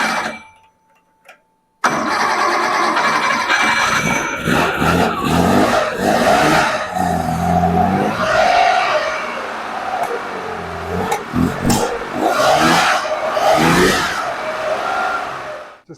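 Engine cranking and catching on a rebuilt Zenith 40TIN carburetor after a little fuel is added, a short quiet gap then a sustained loud run with uneven roughness and bursts of revving throughout.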